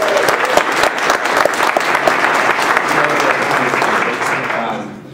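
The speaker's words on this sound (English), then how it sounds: "How about a round of applause for the rare plant program?" A crowd at a morning talk on California's endangered plants applauds a rare plant program with loud, steady clapping that lasts about five seconds and then fades out at the end.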